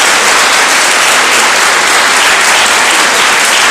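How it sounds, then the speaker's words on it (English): A live audience at a school debate competition on homeschooling versus traditional schooling applauds a round winner with loud, dense, steady clapping that fills the whole stretch without a break. "A big round of applause to her,"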